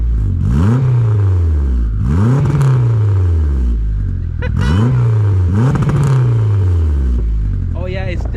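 A turbocharged Honda CRX with an H2B swap, warmed up, gets repeated sharp throttle blips, four or five quick revs rising and falling close by, each spaced about a second or two apart.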